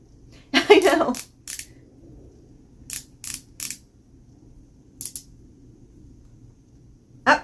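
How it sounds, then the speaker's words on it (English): A REFY Satin Liquid Lipstick Pen is twisted and clicked close up in separate bursts: a quick run of clicks, then pairs and short clusters of crisp plastic ticks with quiet pauses between. "So it's going to take at least 50 clicks."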